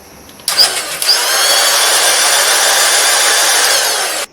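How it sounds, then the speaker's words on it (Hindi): A blender switches on with a sharp start and then whirs loudly and steadily, mixing a jaggery syrup drink with water, before cutting off abruptly at the end. "अब इन चीज़ों को अच्छे से ब्लेंड कर लेंगे।"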